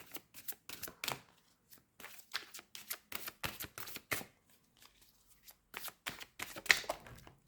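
An oracle card deck is cut and shuffled by hand. Quick, crisp riffles and flicks come in irregular bursts, close and fairly quiet, with short pauses between them and no talking.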